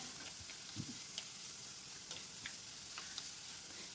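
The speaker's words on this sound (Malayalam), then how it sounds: "ഒന്ന് നന്നായിട്ടൊന്ന് വഴറ്റി കൊടുക്കാം." Shallots and curry leaves sauté in a pan over medium heat, a steady soft sizzle with a few light spoon scrapes and clicks throughout.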